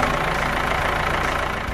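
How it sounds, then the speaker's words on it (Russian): A tractor engine idles with a steady, rumbling chug, played as a sound effect from a blue-tractor toy phone, continuous and fairly loud with no voices. "Привет! Это синий трактор."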